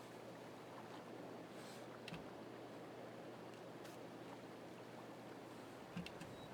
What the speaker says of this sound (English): I can definitely hear water.